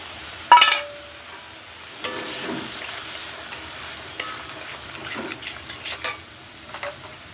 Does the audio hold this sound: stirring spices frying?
yes